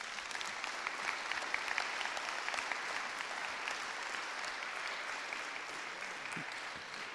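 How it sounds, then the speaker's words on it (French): An audience at a municipal council meeting installing a new mayor applauds in a steady, dense wash of clapping that holds at an even level throughout, with no voices rising above it. "Vous pouvez encore l'applaudir."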